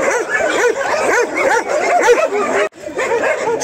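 Several dogs bark and yip rapidly and repeatedly, close and loud, with a brief pause before the barking resumes.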